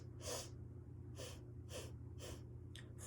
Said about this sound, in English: This breath is going to be 4 sniffs in and 4 sniffs out